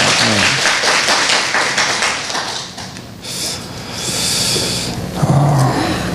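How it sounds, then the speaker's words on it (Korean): A church congregation claps together after the choir finishes, a dense, loud burst of applause that fills the room, with a few thuds and a brief voice near the end. "자, 박수 한번 칩시다"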